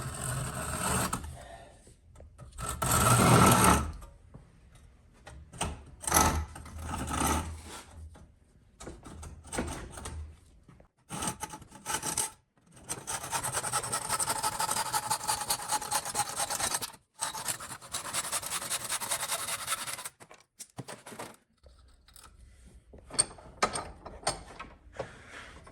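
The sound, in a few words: saw cutting wooden axe handle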